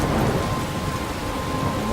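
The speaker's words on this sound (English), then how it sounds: "I'm trapped in a storm?" A thunderstorm in the video game Life is Strange: heavy, dense rain pours steadily with deep thunder rumbling underneath, a loud and continuous wash of noise with no voices.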